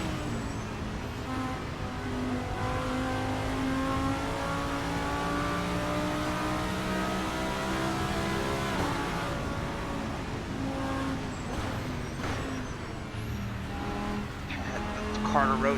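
A race car in the Assetto Corsa sim roars through gears on a bumpy track, engine pitch climbing and dropping repeatedly with gear changes, loud and continuous.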